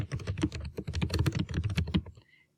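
Rapid typing on a computer keyboard, a dense run of close, crisp key clicks for about two seconds before stopping.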